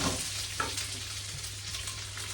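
Corn and vegetables frying in a pan, with a steady broadband sizzle, a faint clink near the start, and a low hum running underneath throughout, with no talking.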